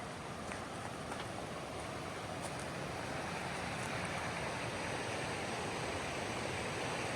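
A river on a flat stretch of the Appalachian Trail in New Hampshire flows past with a constant broadband rush of water, even and unbroken throughout, with no voices.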